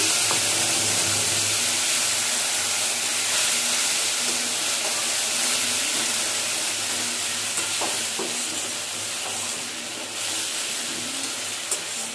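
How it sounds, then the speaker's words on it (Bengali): Nigella seeds and tomato paste sizzle steadily in hot oil, a dense continuous frying hiss with occasional stirring clinks, loud and close throughout. "তেলের মধ্যে কালো জিরে ফোড়ন দিলাম, একটু টমেটো পেস্ট দিয়ে দিলাম"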